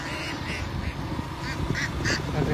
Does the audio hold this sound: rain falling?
no